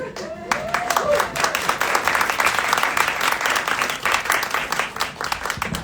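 Audience at a Latino poetry and art panel breaking into applause, sharp rapid clapping with a few whoops at the start, sustained and fairly close, with voices mixed in.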